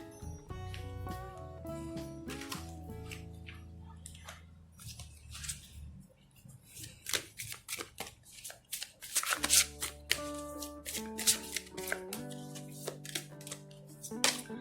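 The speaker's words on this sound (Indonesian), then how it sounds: "gue bakal buka kartu berikutnya" Tarot cards are shuffled and laid out, giving a run of crisp riffling and flicking bursts, then sharper slaps and snaps as cards are dealt down, close and clear with no talk.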